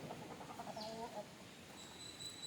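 Faint chicken clucks in a short run, distant and muffled beneath steady background hiss.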